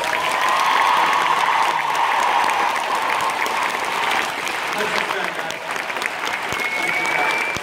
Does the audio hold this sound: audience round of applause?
yes